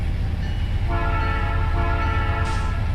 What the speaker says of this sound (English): I just realized the P3 horn sound is Bobby's horns.